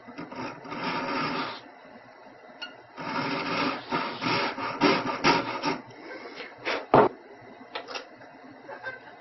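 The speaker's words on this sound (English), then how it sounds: "again saw in about halfway into the platinum stock" A jeweler's saw rasps through a strip of platinum stock in short, close bursts of fine scratchy strokes, broken by brief pauses, with no talking.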